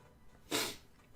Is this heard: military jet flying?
no